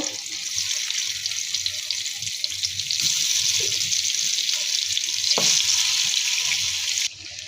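Marinated taro (kochu) pieces fry in hot oil with a bright, continuous sizzle that swells slightly midway, a single sharp tap breaking through near the end before the hiss drops off.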